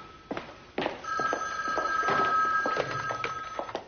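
A telephone bell rings in a TV soap scene, a steady electronic trill sustained for about two seconds amid soft footsteps and shuffling, with no speech.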